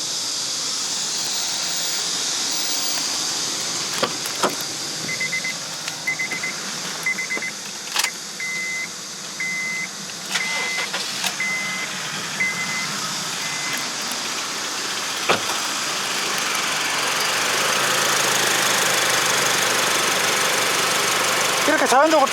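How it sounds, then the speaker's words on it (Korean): A second-generation Honda CR-V engine cranks briefly and settles into a steady idle, heard close with someone talking over it and a few beeps from the car along the way. "시동 한번 걸어 볼게요."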